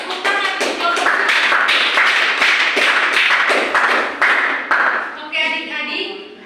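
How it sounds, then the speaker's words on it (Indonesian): A primary school class claps together for a student group during a lesson, with loud, rhythmic, closely spaced hand claps that fade toward the end as a voice starts speaking. "Oke, tepuk tangan untuk kelompok 3."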